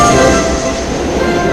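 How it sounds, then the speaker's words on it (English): Train running on Brunel's Great Western line at Maidenhead, a steady loud rumble with ringing tonal hum, heard close and without pause throughout. "Brunel built the most wonderful bridges, viaducts and tunnels to keep his trains on the straight and narrow"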